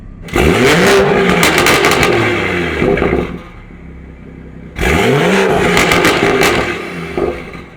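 A BMW exhaust set to sport mode revs hard in two loud bursts, each rising with a sharp climb in engine pitch, holding at full throttle, then dropping back toward idle. There is a quieter lull between the bursts and no talk.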